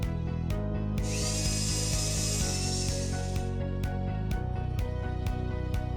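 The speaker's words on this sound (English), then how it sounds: "The first step is to cut the bottom flange of the top clamps that hold the piece." A power tool cuts through the bottom flange of metal facade clamps in a Frontek Plus cladding system, giving a loud, continuous grinding whine with shifting pitch and a few sharp clicks and knocks along the way.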